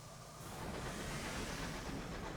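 A steam train travels through the skies in the game Sunless Skies, giving off a steady, dense rumbling wash that swells slightly and holds constant, with no talking.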